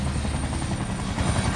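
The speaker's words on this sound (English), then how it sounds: "Another helicopter." A helicopter in the Resident Evil 2 video game produces a loud, steady rotor thrum with dense low chopping and a constant whine above it, with no voices.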